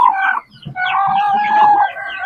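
Chickens clucking up close on a poultry farm in Yalıköy, Fatsa, with loud, tonal calls in two bursts separated by a short pause.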